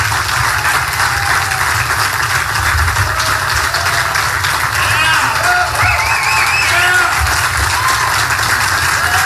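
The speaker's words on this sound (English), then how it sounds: "some of the press was actually clapping" Members of the press join a crowd applauding at a Donald Trump rally in Keene, a dense, loud, continuous roar of clapping with cheering mixed in, sustained throughout.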